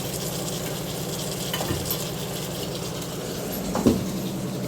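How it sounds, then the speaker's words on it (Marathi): Red chilli powder, turmeric, coriander powder and pav bhaji masala sauté in a pan, a continuous close sizzle with light scraping stirs and a brief louder scrape near the end. "आता याच्यात लाल तिखट हळद धना पावडर आणि पावभाजी मसाला टाकला आहे ते चांगलं परतून घेते"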